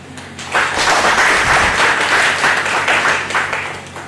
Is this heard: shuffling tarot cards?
no